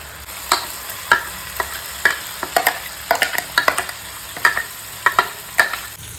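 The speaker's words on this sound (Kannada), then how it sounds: "ಸೊ ಹಾಗೆ ಇದರಲ್ಲಿ ಮಿಕ್ಸ್ ಮಾಡಿಕೊಂಡು ಇದರ ಹಸಿ ಫ್ಲೇವರ್ ಎಲ್ಲಿ ತನಕ ಹೋಗಲ್ಲ ನೋಡಿ ಅಲ್ಲಿ ತನಕ ಫ್ರೈ ಮಾಡ್ಕೊಳ್ಳೋಣ" Salted ground green masala for kingfish (anjal) fry sizzles on a tawa pan, steady hissing broken by repeated scraping strokes of a spatula stirring it, close and fairly loud.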